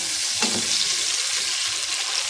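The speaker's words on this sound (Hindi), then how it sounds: "अब टमाटर को हल्का सा हम सौटे होने देंगे" Tomatoes sauté in a pan for chicken karahi, giving a steady, bright sizzle with a brief stir near the start and no talking.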